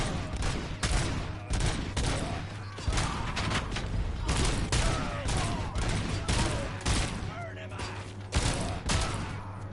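Rapid gunfire and repeated booming explosions from the video game RoboCop: Rogue City on PS5 crowd together in a dense, chaotic barrage, loud and close throughout.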